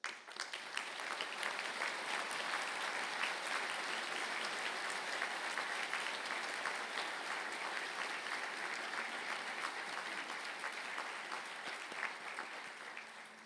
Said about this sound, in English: please stand for a well-deserved round of applause.